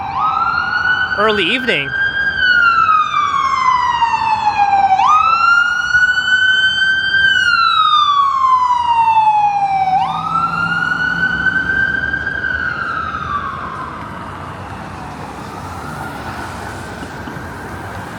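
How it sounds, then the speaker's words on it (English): An ambulance siren wailing along a downtown Toronto street on a Friday early evening, loud and close, sweeping slowly up and down in long cycles before fading, with traffic underneath and someone speaking briefly. "Hey, I'm hearing sirens. There's the ambulance."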